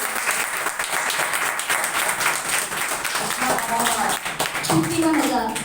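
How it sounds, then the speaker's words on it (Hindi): Loud, sustained clapping fills a Sunday prayer meeting, a congregation applauding together at close range while voices carry over the steady patter. "जोर से ताली बजाओ।"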